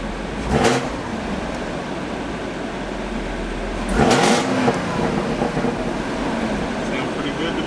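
A Camaro ZL1 fitted with a ported throttle body, engine idling with two quick revs that swell and fall back, the second one longer, steady rumble in between.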